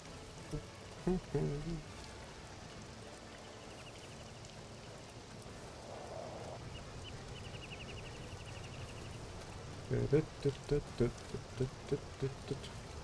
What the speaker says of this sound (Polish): O, taki deszcz.